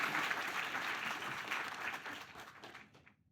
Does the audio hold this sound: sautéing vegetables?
no